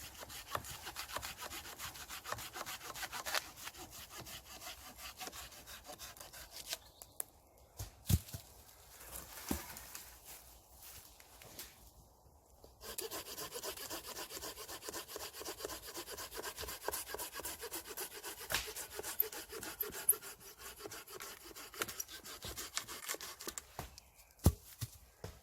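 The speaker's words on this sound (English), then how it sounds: "I've got really fine shavings of fatwood for tinder." A knife shaves fine curls of resinous fatwood for tinder outdoors, giving quiet, close, repeated rasping scrapes in uneven strokes with a short pause midway.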